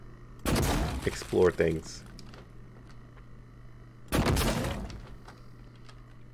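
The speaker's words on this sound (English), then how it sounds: "Gotta keep using the glue gun" Two loud bursts of the glue gun firing in the video game Prey, each a harsh, sputtering spray lasting about a second, separated by a quiet stretch, with a brief spoken remark during the first burst.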